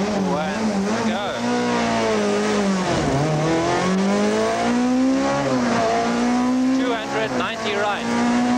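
Onboard a 1994 Volkswagen rally car on a tarmac stage, the engine loud and close, climbing through the revs in repeated rising sweeps with brief dips at gear changes, and a voice faintly underneath.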